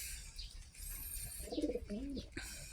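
Large racing pigeons give a couple of soft, throaty coos close by, heard over steady outdoor background noise and faint chirps.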